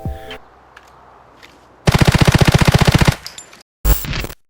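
An MP5K submachine gun in the video game Arena Breakout fires one long rapid burst, then a short second burst after a pause, sharp and close, with faint game clicks between.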